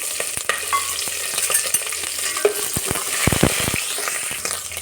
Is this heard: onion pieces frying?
yes